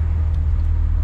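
A Honda Prelude with poor alignment, wandering on the road, rumbles along as a loud, steady low drone of engine and road noise heard from inside, with no voices.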